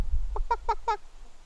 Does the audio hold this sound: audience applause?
no